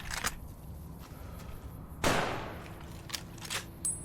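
A big gun fires in the video game Fallout: New Vegas, giving several sharp, separate reports, with one especially heavy blast near the middle that trails off in a decaying boom.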